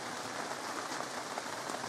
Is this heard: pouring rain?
yes